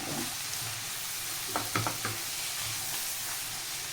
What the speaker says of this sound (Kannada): ಎಲ್ಲ ಹಾಕಿ ಒಂದು ಸತಿ ಮಿಕ್ಸ್ ಮಾಡ್ಕೊಂಡ್ಬೋಣ.